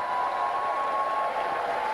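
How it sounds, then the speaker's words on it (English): A crowd at an HWPL World Peace Tour event in Romania applauds steadily, a dense and even wash of clapping that holds at the same level throughout. "let's give her another round of applause for effort on HWPL International Law"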